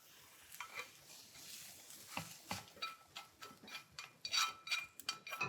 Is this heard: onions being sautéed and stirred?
yes